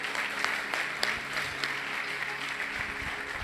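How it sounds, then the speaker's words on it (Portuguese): A church congregation applauding during a testimony service, a sustained wash of clapping with a few louder claps standing out, continuing steadily without speech. "Aplauda isso. Aplauda."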